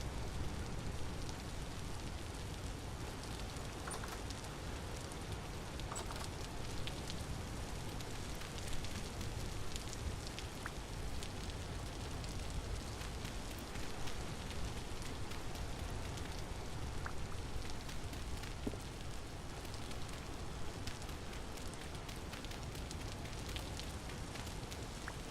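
Steady, dense rain falls continuously in a fantasy game world, outdoors among ruins. The hiss and patter stay even and fairly faint from start to finish, with no voices.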